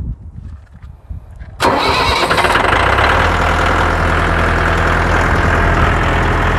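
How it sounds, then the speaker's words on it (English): A tractor engine cranks and catches abruptly after a quiet moment, then settles into a loud, steady, rumbling idle that continues without pause. "when you crank it up, if the engine is idling too low or too high, you can adjust it with this lever here"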